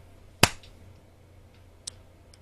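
A single sharp hand clap lands alone in a quiet room, followed by a fainter tap a moment later, as people sync up a recording.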